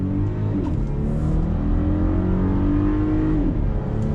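A 2021 VW Atlas Cross Sport with 4Motion pulls out into traffic under hard acceleration, its engine note climbing steadily and loud through the gears, a continuous near drone with no tire chirp and no voices.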